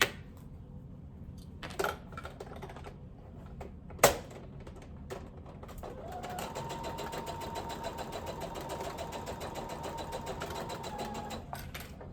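Home sewing machine running a long basting stitch along garment side seams, preceded by a few sharp clicks and knocks, then a steady close whirring hum for several seconds that stops near the end.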